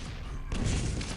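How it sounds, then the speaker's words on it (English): A rocket explodes close to a player in a competitive Quake play-off duel, a sudden loud blast that hits midway and rings out with heavy low rumble over steady game noise. "Oh, that rocket was mighty close to him."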